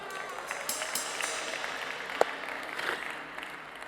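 Audience applause at a live poetry and music performance, a steady wash of many hands clapping at moderate distance, with a few brief louder claps standing out.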